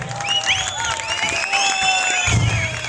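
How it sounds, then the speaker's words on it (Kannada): Crowd applause for an international-level yoga performer from Hunsur at the Kappadi fair, a steady sustained clapping with cheering mixed in, loud and close throughout. "ಜೋರಾಗಿ ಚಪ್ಪಾಳೆ ಬರ್ಸ್ಬೇಕು"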